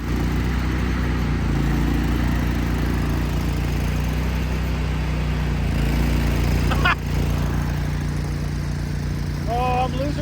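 An engine on a farm being cranked and running drones at a steady, loud, close idle throughout, with a faint squeaking sound near the end and no clear break in the rumble.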